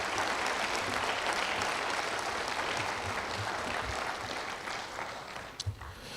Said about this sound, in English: So ladies and gentlemen, a round of applause for Mr.